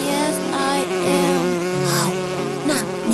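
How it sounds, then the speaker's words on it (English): Bees buzzing in an animated children's story, a loud continuous droning hum with wavering pitch, close and alone. "我看到蜜蜂。"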